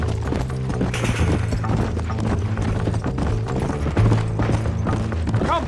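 Horse hooves clip-clop at a steady gallop in the Western game Red Dead Redemption, rhythmic and continuous under a loud orchestral score, with a brief whinny near the end.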